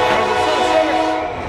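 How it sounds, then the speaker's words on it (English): A passing sugarcane train rumbles loud and close with a sustained horn-like tone over the rolling clatter, steady across the short span. "there's a sugarcane train"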